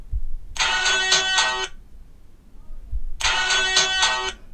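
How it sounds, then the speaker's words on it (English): A custom iPhone ringtone plays twice, each a bright electronic chime burst of about a second with a short pause between, heard close and alone. "And then we select a ringtone"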